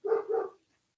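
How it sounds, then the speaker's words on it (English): A dog barks twice in quick succession somewhere in the background of an indoor interview, a short double woof at moderate volume that stops abruptly and leaves silence. "Sorry about the dog in the background."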